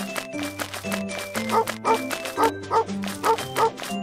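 A cartoon rescue dog on an earthquake search-and-rescue mission barks in a quick, repeated series of sharp yips, loud and close, over a steady musical backing.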